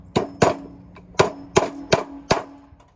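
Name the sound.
hammering roofing nails into a deck joist hanger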